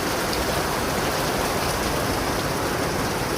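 Heavy rain pours down in a dense, continuous hiss, loud and even throughout with no pauses.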